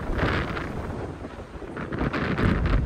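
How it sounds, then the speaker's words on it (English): Strong wind gusts buffet the microphone beside a high-altitude laguna near the Chilean border, a loud roaring rumble rising and falling throughout with no voices. "Unfortunately, once again, the wind caught back with us."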